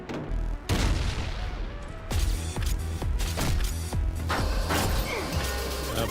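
A mine blast in the video game Bionic Commando Rearmed, a heavy boom followed by a run of rapid explosive thuds and crackling bursts, loud and close over game music.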